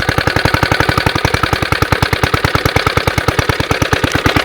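An old Suffolk stationary engine, a scrap example under rebuild, runs on choke with a loud, steady, fast chugging of regular firing pulses throughout.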